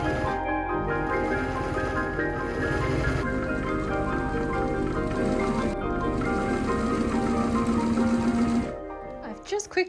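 A sewing machine stitches the side seams of a chemise in a steady, fast mechanical whir that runs several seconds, briefly slowing before stopping with a few final clicks.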